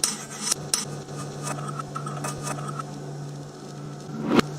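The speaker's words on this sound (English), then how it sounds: "Add the onions and then keep stirring." A utensil scrapes and clinks against a pot while onions are stirred, with intermittent sharp metallic taps over a faint, steady background hum and a louder clank near the end.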